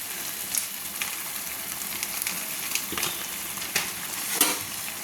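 Chicken liver and gizzards sizzle softly in a pan while a spoon stirs them now and then, with a few scrapes and clinks over a low, continuous frying hiss.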